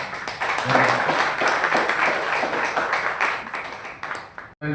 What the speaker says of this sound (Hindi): मैं चाहूँगा कि सब एक बार सुदेश जी का और हमारे सभी खिलाड़ियों का ताली बजा करके स्वागत